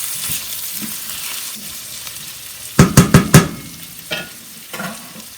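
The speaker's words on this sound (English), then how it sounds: "I will stir that in just to make sure that all the ingredients" Ingredients being stirred in a simmering pan for a green popcorn dinner, a low sizzle underneath and a quick burst of four sharp scraping knocks of the utensil against the pan, followed by a couple of softer taps.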